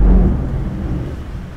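Loud, deep thunder rumbles close by during a stormy night, a heavy low roll that fades slightly over its short length, with no voices.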